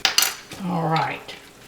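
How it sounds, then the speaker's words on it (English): No-bake oatmeal cookie mixture with vanilla stirred in a bowl, a couple of sharp spoon clinks followed by a long squeaky, tonal scrape of the spoon. "I'm going to kind of give that a nice stir"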